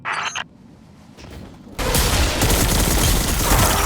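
Sustained heavy gunfire in a Destiny 2 firefight, dense rapid shots roaring loud and continuous after a quieter opening with brief bursts.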